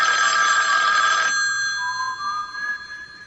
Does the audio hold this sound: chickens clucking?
no